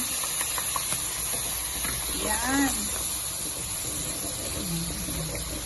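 A steady sizzling hiss of all-purpose cream heating in a pan over low heat, continuous and close, with a voice speaking briefly over it.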